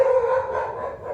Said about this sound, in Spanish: Perdona mi perro,